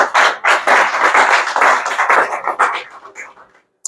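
A burst of dense clapping from a small group, sustained and fairly loud, then thinning out and fading to silence.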